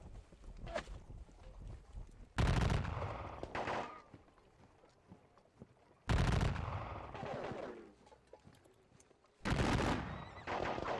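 Bursts of gunfire in a war video game set at the battle of Valmy, three loud volleys separated by several seconds of quieter background crackle.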